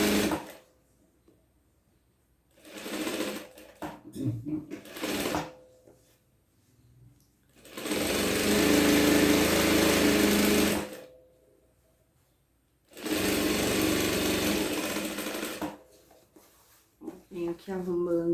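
A domestic sewing machine stitches the front and collar of a festa junina vest in three long close bursts, separated by pauses with handling noises and someone talking.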